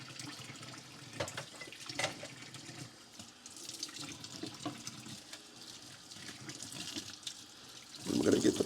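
Tap water runs into a kitchen sink and splashes over a plate during hand dish rinsing, a continuous close hiss and patter that shifts as the plate moves, growing louder and heavier near the end.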